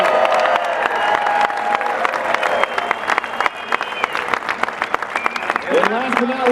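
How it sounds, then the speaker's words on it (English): Applause from the audience at the 2019 Pickleball Hall of Fame inductee ceremony, loud steady clapping filling several seconds, with a voice speaking over it near the close. "please give a big round of applause for Enrique Ruiz"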